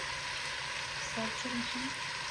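Food frying in a pan in a home kitchen, a constant dense sizzle with crackling throughout, steady and close, with brief voices murmuring faintly underneath.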